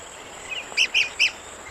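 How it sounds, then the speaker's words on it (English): A rare red-cockaded woodpecker calling from a loblolly pine, three short, high chirps in quick succession, clear and moderately near over a faint background hiss. "The rare red-cockaded woodpecker lives in this loblolly pine."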